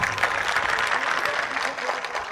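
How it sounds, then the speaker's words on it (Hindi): Audience applause at an Urdu mushaira in Pune, a dense, continuous patter of clapping from the crowd, fairly loud and steady, with voices blended in beneath it. "एक मर्तबा इस मुशायरे के इस्तकबाल में जोरदार तालियां"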